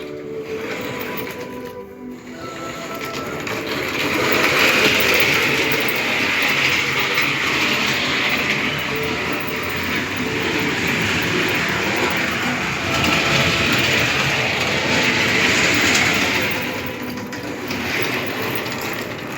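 A running cardboard 1:87 H0 scale model armoured train gives a continuous mechanical whirring and clicking of small gears and wheels, close and steady for about twenty seconds, swelling slightly in the middle.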